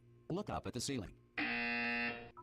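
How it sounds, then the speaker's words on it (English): A voice speaks briefly, then a loud electronic buzzer in the game Portal 2 sounds alone for about a second with a steady harsh tone, followed by a short trailing tone. "You will hear a buzzer."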